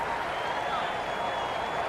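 A stadium crowd in a cricket video game, Cricket 26, at an IPL T20 match between Gujarat Titans and Mumbai Indians, a steady dense roar of cheering and clapping that stays level throughout, loud and continuous under commentary.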